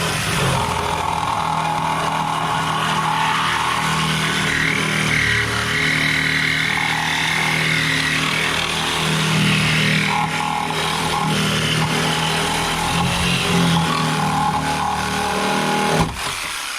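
A cutting wheel grinds through a part on a Mercedes T1N Sprinter van, producing a loud, continuous whining, rasping drone with slight pitch wavers that stops abruptly near the end.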